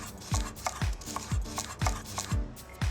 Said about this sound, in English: Next step is to chop up the veg. Just going to finely chop it.